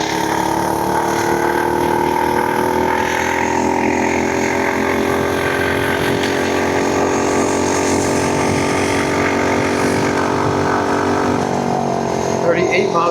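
An FRP GMB100 mini bike engine runs under way, with a steady buzzing drone that shifts pitch slightly as the revs change. The engine stays loud and close throughout, with wind noise mixed in.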